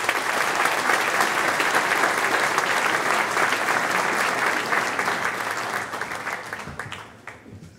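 An audience at the FEBE Elements Awards 2023 ceremony gives loud, sustained applause that holds steady for several seconds and then fades away.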